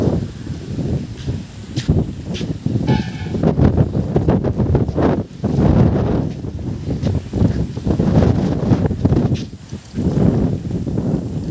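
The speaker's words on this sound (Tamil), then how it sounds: "சரியான காற்றடிக்குது, நிற்க முடியல." Strong wind blows during a rainstorm in the Sengundram area, producing loud, gusting roars and buffeting rushes against the microphone that rise and fall continuously.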